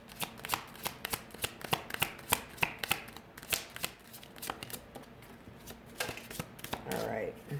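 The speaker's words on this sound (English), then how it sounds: "I'm going to do one more flip through the deck" A tarot card deck being shuffled and flipped through, giving a rapid run of crisp, close paper riffles and slaps with short pauses, a soft voice speaking faintly in the background.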